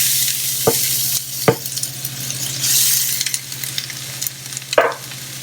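Shallots dropped into smoking-hot olive oil for a roast beef dinner give a bright, steady sizzle with a few sharp clinks of the pan or utensil, close and fairly loud, with no talking.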